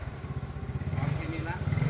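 A Yamaha Mio Sporty scooter engine idles close by with a rapid, steady low thumping. Voices talk over it.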